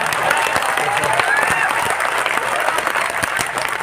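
Audience clapping at a Hindi poetry gathering, a kavi sammelan, with steady dense applause filling the hall throughout and faint voices mixed in.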